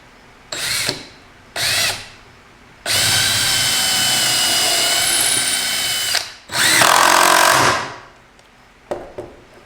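A power drill drives a screw at an angle into a DIY desk leg: two short trigger bursts, a long steady whine, then another sustained run, close and loud with no speech.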